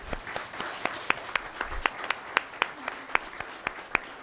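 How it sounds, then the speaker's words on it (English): Sparse applause from a forum audience honoring political candidates, with individual claps standing out in a loose rhythm, fairly faint and distant in the room. "So let's give them a round of applause."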